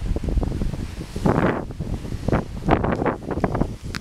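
Strong gusting wind buffets the microphone outdoors on a blustery coastal day in Mexico, a loud, continuous roar with surging gusts and no talk.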